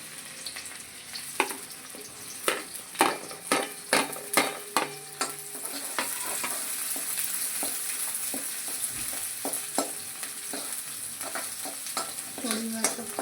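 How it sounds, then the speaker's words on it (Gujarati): Chopped onion sizzles steadily in hot oil for a pasta dish, with a run of sharp, regular clinks and scrapes of a spoon stirring against the pan early on; no voices. "અને હવે તેલ આવશે એટલે નાખી દઈશું ડુંગળી."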